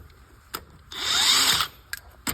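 Power tool spinning wheel lug nuts loose on a 2009 Dodge Challenger during rear brake pad work: one loud sustained whirring burst, with a few sharp clicks and clanks before and after.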